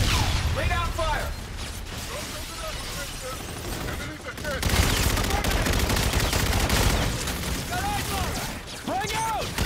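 Rapid gunfire from a Call of Duty: Infinite Warfare shootout, loud and sustained with dense overlapping bursts and mechanical clatter, shouted voices over the barrage.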